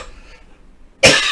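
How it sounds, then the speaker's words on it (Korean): A single sharp, loud cough bursts in near the end after a quiet stretch, close to the microphone and coming from a man in the middle of talking. "이 기침이 한번 나오면 계속 나와가지고"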